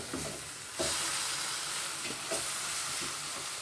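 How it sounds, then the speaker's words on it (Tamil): Tomato chutney ingredients fry and get stirred in a pan, giving a steady broadband sizzle with a few louder scraping stirs, close and continuous with no talking. "நல்லா பச்சை வாசம் போய் நல்லா ஃப்ரை ஆகிற அளவுக்கு"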